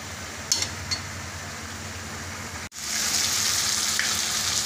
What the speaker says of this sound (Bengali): এবার মশলাগুলো ভাজা হতে থাক আর লাউটা আস্তে আস্তে মজে যাক